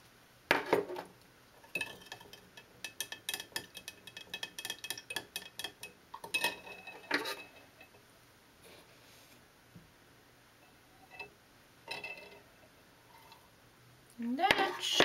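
Metal teaspoons of copper sulfate scraping and clinking against a container in a series of sharp, bright taps and rattles, close by, with bursts of louder clatter at the start and end.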